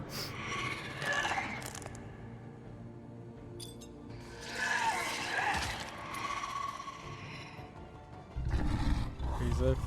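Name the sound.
tiger growls in The Wolf Among Us video game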